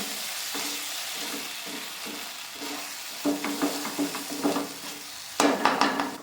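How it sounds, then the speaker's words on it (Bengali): Ground Kashmiri chilli and cumin powder stirred into a spice paste in a hot pan, with a soft sizzle under a run of spatula scrapes that gets louder and quicker toward the end, a few sharp metallic clinks at the close. "এবার এটাকে ভালো করে মেশাবো কাশ্মীরি লঙ্কার গুঁড়ো জিরের গুঁড়ো দিয়ে আবার মেশাবো"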